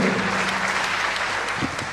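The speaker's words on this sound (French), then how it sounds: "Applaudissez-le." An audience at a French-language spelling championship bursts into sustained applause, dense clapping that carries on for the whole moment and fades slightly at the end.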